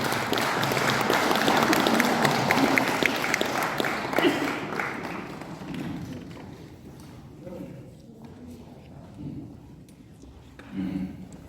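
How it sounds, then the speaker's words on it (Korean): Applause from an audience at a Cheondogyo ceremony, a broad wash of clapping that is loud at first and fades over several seconds, followed by scattered murmuring and low voices. "뜨거운 박수 부탁드리겠습니다"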